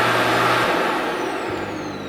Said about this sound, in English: I am running my vacuum mop robot.